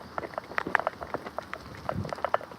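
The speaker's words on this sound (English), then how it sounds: "It really is raining, guys." Rain falling outdoors during a downpour, scattered drops pattering and tapping on nearby surfaces at a moderate level, with no talk.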